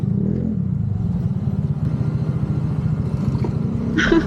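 A Euro Samurai 155 motorcycle engine labours uphill in Calatagan, Batangas, a close, steady pulsing putter that holds for several seconds with a brief sharper noise at the end.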